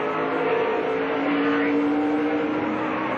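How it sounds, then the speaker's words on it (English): A NASCAR stock car's engine is heard onboard during a race at Richmond, a loud, close, steady drone with a sustained tone that shifts slightly in pitch throughout. "Let's go on board and listen to the engine."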